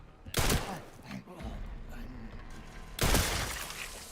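Two sharp gunshot bursts ring out in Resident Evil Requiem, one early and one near the end, with quieter rustling and a voice talking in the gap between them.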